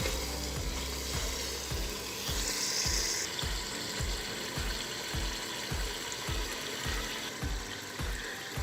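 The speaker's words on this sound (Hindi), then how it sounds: "सब चीज़ों को हमने अच्छी तरह से भून लिया है" Chicken and potatoes fry in oil with a steady close sizzle, punctuated by regular rhythmic scraping strokes of stirring throughout, no talk.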